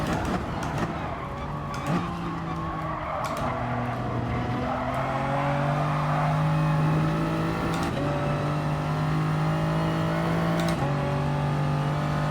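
Engine in GT Sport held near full throttle, a loud continuous racing-car drone with steady harmonics that dip and rise through gear changes, with tire squeal and skidding over a running lap.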